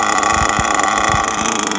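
An Argus K3 nitro engine idles rich in a TLR 8ight-X Elite RC buggy, a loud, steady, high buzzing drone held close throughout.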